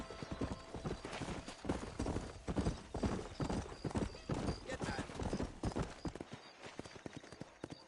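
Horses gallop with a rapid, loud clip-clop of hooves in Red Dead Redemption. Voices talk over the rhythm, and a horse whinnies.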